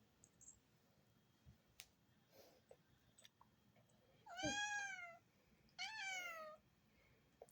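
A cat meows twice in a row, each call clear, drawn-out and close, with a short gap between them and a few faint clicks in an otherwise quiet room.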